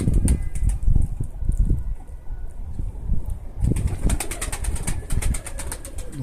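Racing tumbler pigeons beat their wings and coo nearby in the open air, with soft flapping bursts and faint chirps throughout and no talking.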